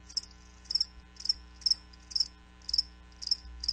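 Crickets chirp in steady, evenly spaced bursts of high trilling pulses, about two clusters a second, over a low constant hum with no voices.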